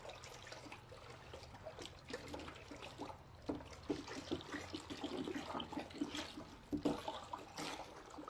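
Water boils vigorously in a bucket for a homemade organic farm fertilizer, a faint, steady bubbling and gurgling that grows a little busier toward the end.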